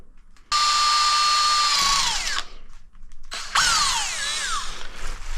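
A power drill whines at high speed for about two seconds, bogs down as it bites into a VW oil chain tensioner for a BMW M50 turbo build, then runs again in a second burst that strains and slows.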